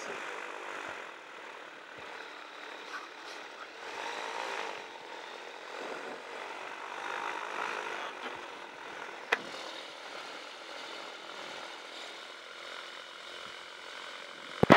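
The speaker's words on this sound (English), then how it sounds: "Victor taxiing across the threshold to the hangar" A GT450 flexwing microlight taxis at an airfield fly-in, its propeller engine droning at a moderate distance with rising and falling intensity, plus a few brief knocks, and no voices.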